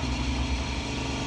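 A KTM 1290 Super Adventure motorcycle engine fitted with an aero exhaust rumbles steadily at a low idle. The tone is deep and throaty but moderate in loudness, close by and continuous, with no talking.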